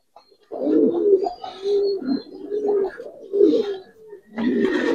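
Pigeons of Giribaz and coloured breeds coo close by in a run of low, throaty rolling calls with short gaps, as a female is released; no talking is heard.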